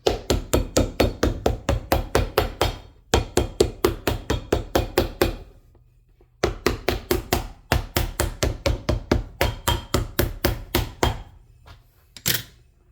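Rapid, steady hammer blows on a leather midsole being fitted to a boot, in two long runs separated by a brief pause, loud and close, ending with a few scattered taps.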